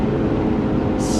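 Lotus Evora Sport 410 engine revving hard near the top of its range, a loud, steady, dense roar throughout with no voices.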